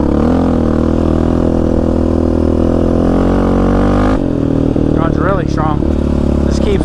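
A Yamaha Raptor 700 quad with an adapter-style air filter runs hard on washed-out Arizona desert trails. Its engine holds a loud, steady drone, drops in pitch partway through, then rises and falls in short revs, with a voice audible.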